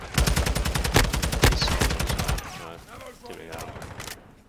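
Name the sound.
shotgun fire in the Call of Duty MW2 video game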